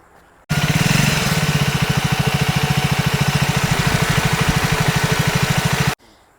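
A Triumph Speed 400 motorcycle's radiator fan gives a steady, loud mechanical whirring drone with a rapid regular pulse, starting abruptly and cutting off after several seconds, close by.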